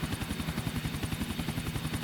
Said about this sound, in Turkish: vallahi zor sürüyorum zaten helikopteri